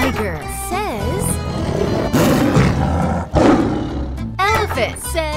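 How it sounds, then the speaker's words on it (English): A tiger roars in two long, rough, powerful bursts, loud and close, over background music. "Tiger says..."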